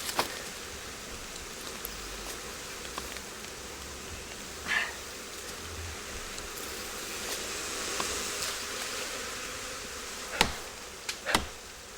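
Bees swarming around raided jungle beehives produce a faint, continuous insect hum, with occasional brief knocks and thumps rising above the drone near the end.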